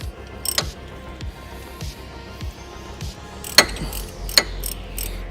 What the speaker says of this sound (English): I've got the bolts in, I've just got to do them up.